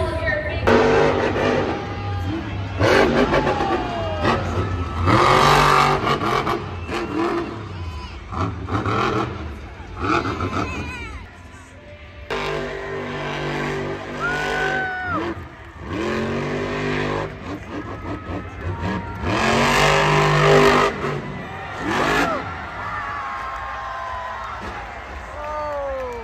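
Engines of monster trucks revving and roaring at a Monster Jam event, loud bursts rising and falling over a crowd with cheering, busy and continuous across the whole stretch.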